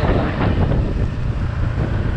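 Steady, roaring wind noise fills the recording outdoors in Bangkok, Thailand, a dense low rumble buffeting the microphone without pause.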